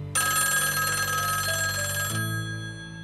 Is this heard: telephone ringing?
yes